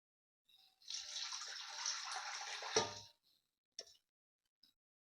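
Water from a small pot poured into a wet grinder before adding rice for idli batter, a rushing splash of about two seconds, then a few faint drips and small knocks.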